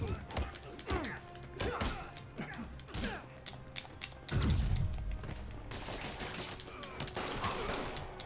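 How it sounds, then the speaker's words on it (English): Gunfire aimed at Spider-Man in the PS4 Spider-Man game: sharp bursts of shots and heavy thuds crackle through a busy fight mix, with a deep impact boom midway and dense action noise continuing after. "you shooting me in the face like that, not cool, man"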